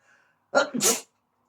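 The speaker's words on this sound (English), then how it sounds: "Every sneeze could be your last." A single close, sharp sneeze: a quick inhale burst followed by a loud hissing release, then silence.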